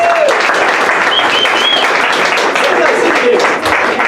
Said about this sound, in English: Give yourselves another big round of applause.